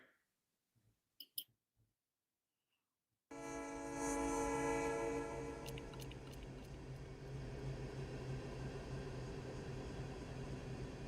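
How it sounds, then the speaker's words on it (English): A train passes during a winter storm, its horn blasting loud and sustained near the start, with a steady roar of rail cars rolling on underneath for the rest of the clip after a brief quiet opening. "Here comes a train."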